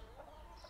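Chickens cluck faintly in a backyard flock that includes Sussex hens and a Plymouth rooster, a brief low murmur of fowl sounds at a distance.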